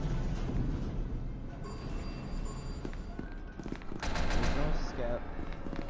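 A skeleton fires guns in SCP: Secret Laboratory, a rapid clattering of gunfire layered over a dense, busy game din, with the bursts growing louder toward the end.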